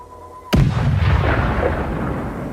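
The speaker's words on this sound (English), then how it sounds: "Now, HIMARS receives the coordinates and opens fire." A HIMARS rocket artillery launcher fires, a sudden loud blast that gives way to a sustained roaring rush, sounding close and slowly fading over a couple of seconds.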